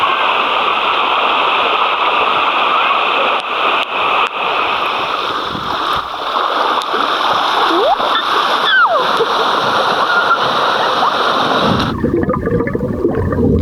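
A person rides a water slide in Malaysia, rushing water running steadily before a closing splash as they drop into the pool; other people's voices sound faintly in the background.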